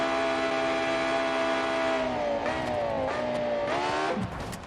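Custom-built race car engine in BeamNG driving the Nurburgring, a loud steady high-revving drone that shifts pitch through several gear changes and ends in a drop with tire scrub, close and continuous.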